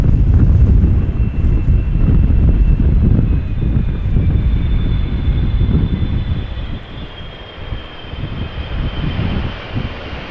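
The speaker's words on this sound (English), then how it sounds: "This is KLM flight 592 arriving from Johannesburg." A KLM airliner arriving from Johannesburg lands at Amsterdam Schiphol in crosswind, a loud, steady jet engine roar heard from nearby that slowly fades slightly.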